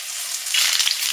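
Dried red chillies, cumin and whole garam masala sizzling as they hit hot oil while cooking chicken curry, a steady close crackle that swells louder halfway through, with no talk.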